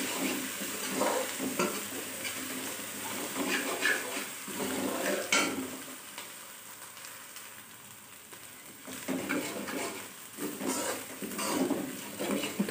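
Crushed garlic cloves fry in a pan for brinjal bharta, giving a soft sizzle under repeated stirring, scraping and clinking of a spoon against the pan, close and fairly quiet, with no voices.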